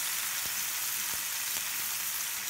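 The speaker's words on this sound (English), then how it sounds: "Then fry 1 packet of tofu first." Tofu pan-fries in vegetable oil, a dense, steady sizzle with a few soft knocks of a utensil against the pan.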